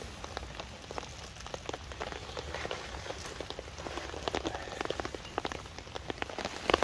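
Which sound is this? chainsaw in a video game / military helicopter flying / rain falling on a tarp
rain falling on a tarp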